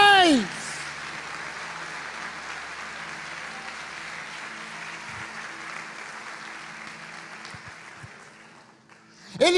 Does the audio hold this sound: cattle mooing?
no